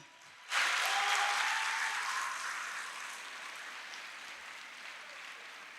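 An audience applauds the 17 finalists at an oratory final, a sudden burst of dense clapping that starts loud and slowly fades over several seconds, with no voices.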